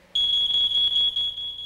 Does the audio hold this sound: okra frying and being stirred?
no